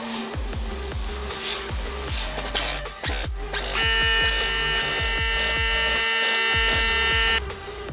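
Lug bolts tightened on a Mazda RX8 wheel, likely with a powered impact tool: repeated short buzzing bursts with a sustained whine in the middle, loud and close, over a steady background hum.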